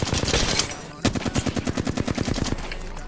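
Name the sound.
gunfire in a first-person shooter video game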